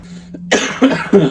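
Three sharp, close coughs in quick succession on a bus, each a harsh burst following a brief low hum.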